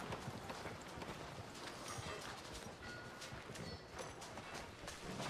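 Horse hooves clip-clop steadily in Red Dead Redemption 2, a continuous fast rhythm of hoof beats mixed into dense, noisy outdoor game ambience at moderate level.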